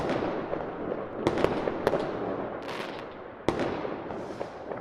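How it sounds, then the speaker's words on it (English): Fireworks from a Unity web demo game, a run of sharp bangs and crackles bursting at irregular intervals over a dense, continuous sputtering rumble, fairly loud and close. "Let's give you some fireworks."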